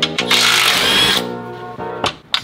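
A power tool runs in a steady whine for about a second, removing the 15 mm bolts from the skid plate over the oil pan on an off-road vehicle, followed by shorter bursts of the tool.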